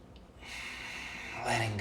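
Forceful breathing during a guided morning breathing exercise, a steady rushing airflow sustained through most of the moment and swelling into a stronger, louder breath near the end, close and alone.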